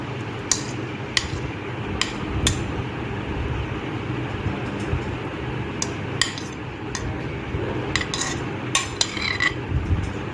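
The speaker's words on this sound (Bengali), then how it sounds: "এখন আমি ফ্রুটগুলো সাবু মিশ্রণে মিশিয়ে নেব দেখুন আমি এক এক করে ফলগুলো দিয়ে দিচ্ছি" Pieces of fruit drop one by one into a chilled sago drink mixture, giving scattered light clinks and taps against the container over a steady low background hum.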